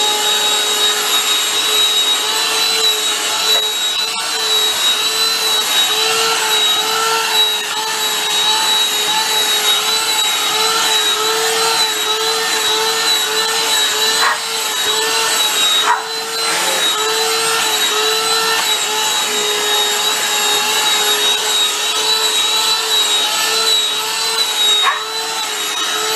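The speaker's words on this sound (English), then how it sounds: "After shaving, you want to go ahead and vacuum and get all of your loose hair off." Vacuum cleaner picking up loose hair after shaving in a veterinary prep setting, a loud steady motor whine running unbroken and close throughout with no talking.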